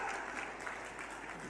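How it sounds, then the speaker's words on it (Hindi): Crowd at a political speech giving a round of applause, a steady soft clatter of many hands clapping at a distance throughout. "जोरदार ताली बजाओ भाई"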